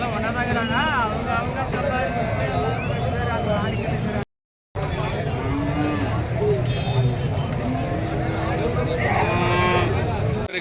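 Several cattle, including Jersey and HF dairy cows, moo repeatedly amid a busy livestock market in Karimangalam, with people talking and calling nearby throughout.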